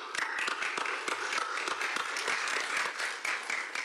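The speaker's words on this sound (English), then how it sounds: "may we give them a round of applause" Guests at the signing ceremony of the Ethiopia–TPLF peace agreement give a round of applause, a soft, dense patter of many hands clapping at a distance throughout.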